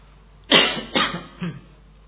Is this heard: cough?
yes